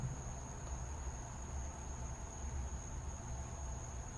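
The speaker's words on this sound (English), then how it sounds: "there's something out there that's making a really screeching noise. I guess it's a bug or like some kind of like super grasshopper or something." Outdoors, an insect like a grasshopper or cricket gives a continuous high, thin screech, steady and unbroken over faint background hiss.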